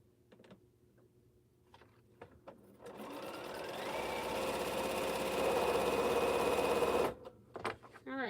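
A sewing machine stitches a quilt row in one continuous burst of about four seconds. It runs as a rapid mechanical whir that speeds up slightly, framed by quiet handling clicks and fabric rustle before and after.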